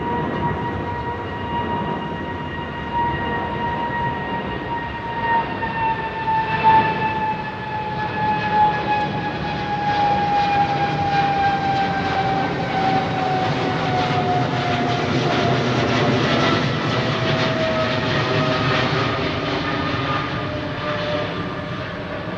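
Airliners departing runway 09R at London Heathrow Airport roar steadily with a whining jet engine tone that slowly shifts in pitch, loud and continuous with a broad rushing swell.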